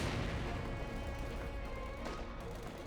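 Dense, steady rattle of gunfire and battle noise from a Company of Heroes 2 match between Wehrmacht and Soviet forces, with pioneers and snipers trading fire; continuous and fairly loud, with no speech.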